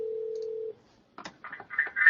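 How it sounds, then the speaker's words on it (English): A phone call is placed from MXIE computer software. A steady dial tone stops, and after a short silence a quick series of dialing tones beeps in sequence, growing slightly louder. "You can click that, and it's making a phone call that way."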